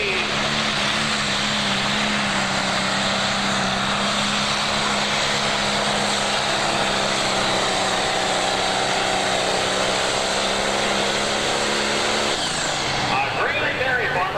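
Pro stock pulling tractor at the 1988 Ohio State Fair tractor pull roaring continuously and loud, a heavy engine drone under an announcer's voice.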